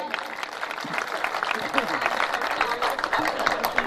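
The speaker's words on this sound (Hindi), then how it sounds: "जोरदार तालियां बजाइए।" Steady applause from a crowd at a Hindi comedy poetry gathering in Mhow, continuous clapping filling the space with a dense, even patter.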